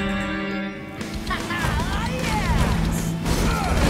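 Cartoon monster trucks crash and smash through old junk with loud clattering impacts and metallic mechanical noise, heard under excited character voices and music.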